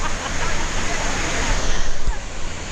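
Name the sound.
waterfall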